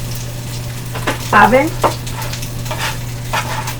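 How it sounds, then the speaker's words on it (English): Meatballs fry in olive oil in a pan, a steady close sizzle with brief scraping and stirring sounds while a person talks briefly over the cooking. "These are frying up really nice. I used olive oil"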